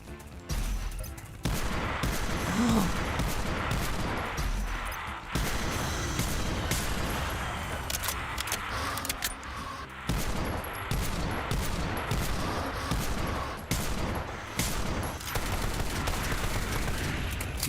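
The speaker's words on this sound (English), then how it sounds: "these are the good explosive rounds." Explosive rounds fire in a video game as a dense, continuous fusillade of loud gunshots and blasts, sustained throughout with occasional brief breaks.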